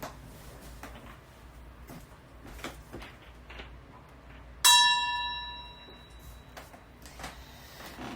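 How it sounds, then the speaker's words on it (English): A small bell rings once during a tarot reading: one clear, bright strike with a long, ringing decay in a quiet room. "if you wonder why I ring the bell, it's to allow spirit to come into the energy"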